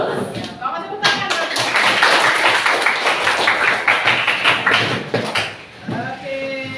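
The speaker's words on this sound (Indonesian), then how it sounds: "Selamat tepuk tangan." A classroom of pupils claps hands together in a dense, rapid burst that runs for several seconds, mixed with voices, before fading out.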